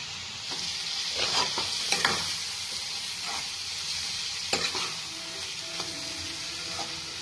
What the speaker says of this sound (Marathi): पनीर टाकून घ्यायचं. त्याला मिक्स करायचं.